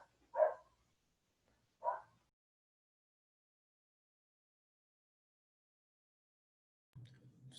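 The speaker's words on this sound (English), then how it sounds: "Sorry about the dog." A dog barks twice during a remote talk, two short separate barks spaced apart, fairly faint and distant, followed by a long quiet gap and then a brief low rustle.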